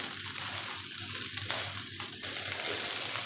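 Egg fried rice sizzling steadily in a pan while being stirred, a constant soft frying hiss broken by a few scraping stir strokes, close and alone with no voices.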